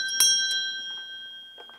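A small hand bell, once rung to call a family to prayer in an ethnographic museum home, sounds in a few bright metallic strikes that ring on with a sustained shimmer before fading slowly.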